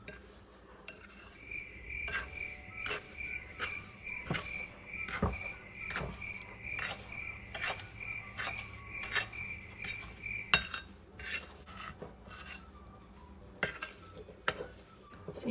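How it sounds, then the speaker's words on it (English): A spoon stirs cookie ingredients in a bowl, with a run of rhythmic scraping clinks against the sides, then more scattered taps and scrapes, fairly close and quiet. "if you just have a bowl and a spoon, it works just as well"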